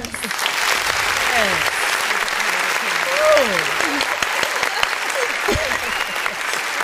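Recorded applause effect played on a live broadcast show, a steady wash of clapping and crowd noise lasting several seconds with a voice talking over it.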